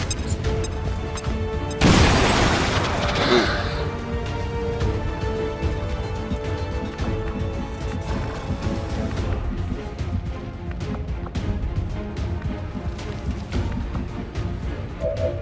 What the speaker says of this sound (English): Okay, throw a grenade. Grenade! Blow up the sectoid's cover.